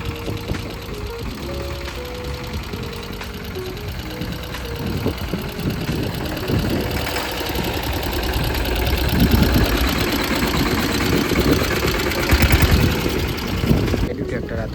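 A tractor engine runs in a farm field with a steady mid-pitched chug that grows louder and rougher toward the end. People talk over the engine throughout.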